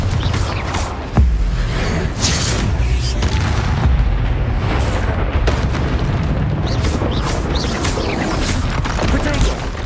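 Confringo blasting spells erupt in Hogwarts Legacy as heavy, booming explosions under a continuous roar of combat, with a sharp blast early on and several softer impacts after it.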